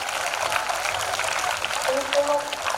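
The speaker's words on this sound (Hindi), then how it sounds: "इसके लिए आप एक बार जोरदार तालियों के साथ" Audience at a school Independence Day celebration applauds, a continuous mass of clapping with a faint voice briefly heard beneath it.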